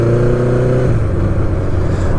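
A Honda Nighthawk motorcycle engine runs steady and close at a high idle, a loud continuous drone with a slight dip in pitch partway through, no talking.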